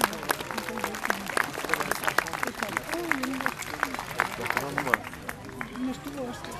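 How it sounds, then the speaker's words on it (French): Audience applause at a courtly jousting tournament in Gisors, steady dense clapping from a crowd outdoors with crowd babble and shouts mixed in, thinning slightly near the end. "Est-ce qu'on peut les applaudir?"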